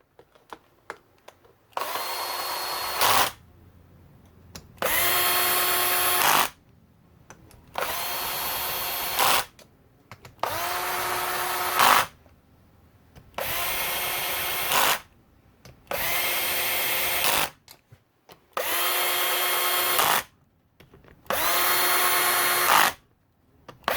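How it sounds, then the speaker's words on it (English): A cordless impact wrench tightens crankcase bolts on a 2019–2023 Yamaha YZ250F engine during a rebuild. Eight loud, close hammering bursts of about one to two seconds each are separated by short quiet pauses. "I'm just going to use this cordless impact"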